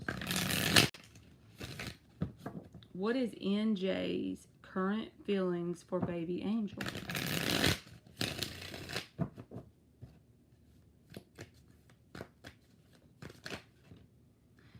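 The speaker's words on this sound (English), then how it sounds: "2 more shuffles." Tarot cards are shuffled in several quick riffling bursts, separated by stretches of a person talking and softer handling of the deck.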